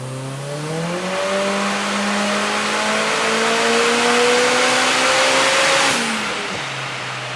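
A Mitsubishi VR4 with a 4G63 engine tuned to 400 kW and a new stainless exhaust revs hard through a long acceleration, its engine note climbing steadily, loud and close, before easing off and dropping back near the end.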